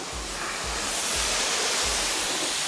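Hose or pressure washer spray rinsing dirt off a car, a loud, dense hiss that runs without a break. A low rhythmic thudding pulses underneath.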